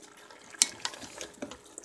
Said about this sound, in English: add the stock.